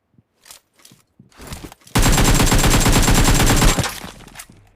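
Heavy automatic gunfire in a video game erupts after a few scattered footsteps and light shots, a loud sustained burst of rapid rounds lasting about two seconds before cutting off, with no speech.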